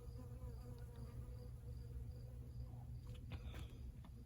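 Bees buzz close by around holy basil plants in a garden with a steady droning hum, low and continuous, a few brief higher whines passing near the end.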